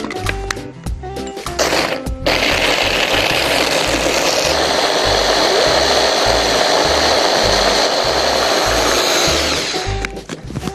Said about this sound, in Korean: 물을 약간만, 반컵 정도만 같이 넣고 갈아줄게요